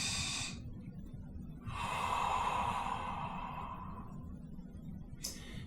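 One slow, full breath out during a stretching warmup, a long airy exhale in the middle of the clip with short breathy sounds before and after, close and without speech.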